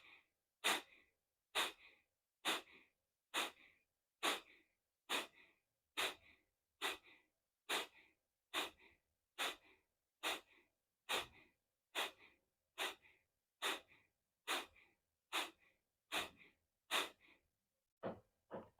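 Rapid, rhythmic breathing exercise: about twenty sharp, evenly spaced breaths through the nose, close and clear against near silence, slowing slightly at the end.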